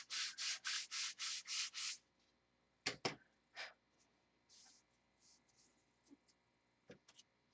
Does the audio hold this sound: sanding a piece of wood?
yes